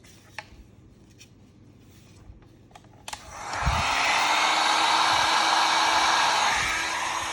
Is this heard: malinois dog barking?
no